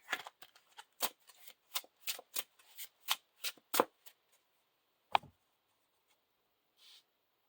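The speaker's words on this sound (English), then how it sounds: "And shuffle that into the second player's deck." Playing cards being shuffled up close, a rapid series of crisp riffling snaps, then a pause and a couple of softer taps.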